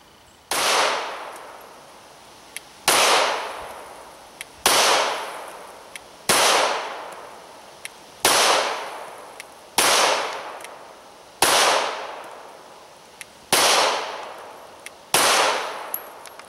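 Handgun shots in a shooting drill, about eight sharp loud reports spaced roughly two seconds apart, each ringing out with a short echo tail.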